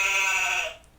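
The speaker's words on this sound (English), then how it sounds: "Sheep." A single short sheep bleat, bright and steady, then fading away quickly, close and alone.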